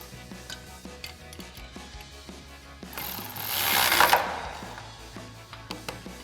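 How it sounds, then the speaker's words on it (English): A ratchet with a 13mm socket tightens a bolt on a Jeep Wrangler JK suspension lift, giving quick repeated clicking strokes up close, with a louder scraping burst in the middle. "So for our front bolt, we can get to it using our 13mm socket and our ratchet."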